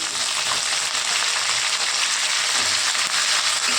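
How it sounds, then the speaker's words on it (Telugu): Curry leaves fry in hot oil alongside ginger pieces, making a dense, steady crackling sizzle that holds loud and even from start to finish, with no speech over it. "ఇది వేగాలండి కరివేపాకు."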